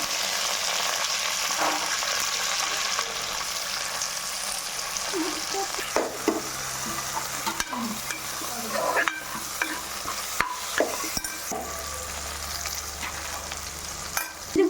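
Masala for chicken biryani, with mint, coriander and ginger-garlic paste, stirred and frying in a pan: steady sizzle with repeated scraping strokes of the spoon, close and fairly quiet, no talking.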